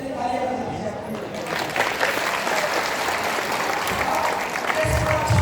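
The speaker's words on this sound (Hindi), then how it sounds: "चलिए तालियां बजा दीजिए अपने लिए।" Audience applause fills a hall at a gathering, steady and dense from start to finish, with some voices and crowd noise mixed into the clapping.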